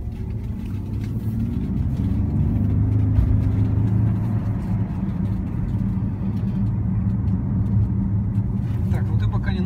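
A Bentley Continental GT coupe drives along with a steady low engine rumble and road noise from inside the cabin. People talk throughout over the engine.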